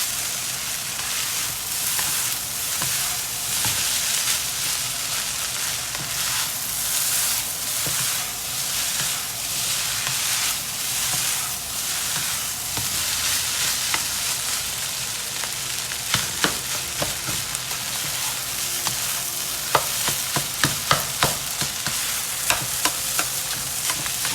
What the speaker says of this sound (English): I want to make sure all the rice grains are coated evenly and fry up nice with all the ingredients that we have in here.